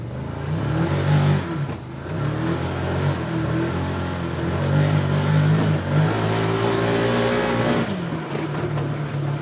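2024 Can-Am Commander MAX XT-P side-by-side accelerating off-road toward a jump near a swamp, a loud sustained engine roar with pitch rising and falling through several surges, close and continuous.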